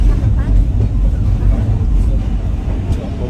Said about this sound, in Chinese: 我们现在坐阿里山小火车哈